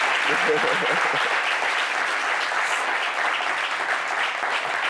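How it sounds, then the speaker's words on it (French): A live show audience applauds continuously, a broad steady roar of clapping at constant level with a brief murmur of voices near the start. "Mais applaudissez, oui"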